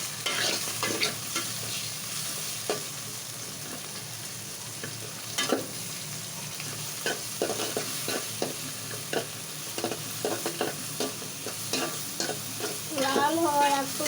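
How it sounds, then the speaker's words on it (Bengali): A spoon stirring bottle gourd and prawn curry in a frying pan, with soft steady sizzling and repeated scraping strokes close by, and a brief burst of sharper spatter near the end. "এখন ভালোভাবে নাড়বো।"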